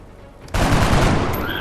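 Gunfire from soldiers in XCOM: Enemy Unknown erupts abruptly into a loud, sustained volley of shots that continues to the end, with no talk over it.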